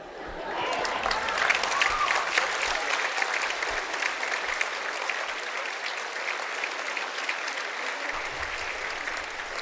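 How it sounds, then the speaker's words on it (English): A studio audience gives a sustained round of applause, dense clapping rising quickly and holding steady for several seconds with a few scattered voices mixed in. "let's give Trump Vader his round of applause"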